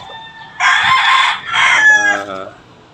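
A gamecock crows loudly and close by, one long harmonic call broken into strained bursts that trail off over a few seconds.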